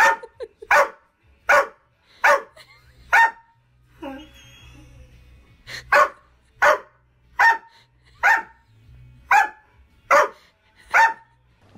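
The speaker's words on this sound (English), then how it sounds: "he wants to be in the room, barks. And his bark is so piercing." Greyhound barking indoors, a series of about a dozen sharp, piercing barks in a steady rhythm, close and loud, with brief quiet gaps and a faint whimper between them.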